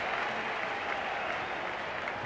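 A big Australian crowd at a 1990s one-day international cricket match applauds steadily, a broad, continuous wash of clapping filling the whole moment without pause.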